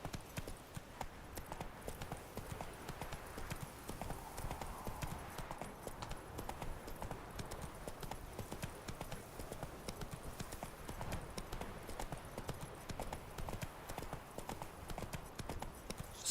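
Horse hooves clip-clop steadily while riding in the video game The Witcher 3, a continuous quiet patter of hoofbeats with game ambience behind it.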